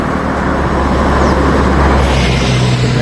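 Steady, loud road traffic roar on a route between Goa and Belgaum, with a dense low rumble of passing cars and motor vehicles throughout and no clear speech.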